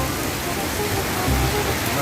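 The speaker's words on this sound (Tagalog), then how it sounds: "Pero kusog kayong ulan." Heavy rain falling under a clear blue sky, a dense, steady hiss of downpour that holds at even loudness throughout the short stretch.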